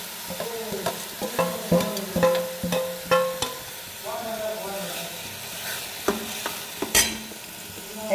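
Ingredients dropped into a hot tempering of oil and asafoetida for a chutney, crackling and sizzling with frequent spatula knocks and scrapes against the pan, close and uneven, while someone talks in the background.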